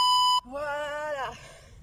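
Electronic workout timer in a Tabata cardio session gives a single sustained steady beep, loud and clean, lasting under half a second before an instructor's voice begins talking.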